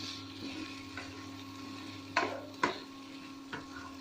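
Chickpeas and kidney beans with chana masala stirred in a pan over a faint sizzle, a few sharp spoon clinks and scrapes against the pot standing out near the end.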